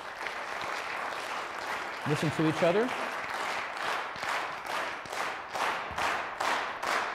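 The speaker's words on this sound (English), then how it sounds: "let's start the applause, and go." Lecture audience applause, broadband clapping building into rhythmic bursts, with a brief spoken remark partway through.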